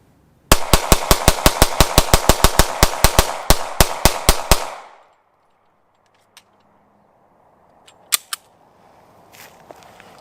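A Lone Wolf Dusk 19 handgun fires Federal ammunition in a rapid string of about twenty sharp, loud shots, followed by near silence with a few faint clicks and handling noises.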